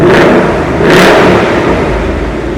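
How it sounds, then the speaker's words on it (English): Ford Mustang GT Premium V8 revving in track mode with its variable exhaust open, two sharp loud revs rising and falling, then a deep rumbling idle, close to the exhaust. "Now, let's hear it when it's in track mode."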